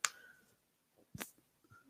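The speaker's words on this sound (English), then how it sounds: "I'm not. It's the lighter." A lighter flicked as a nervous habit gives a few sharp, dry clicks spaced over a couple of seconds, faint and close, with quiet room noise between them.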